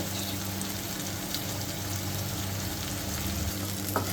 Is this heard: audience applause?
no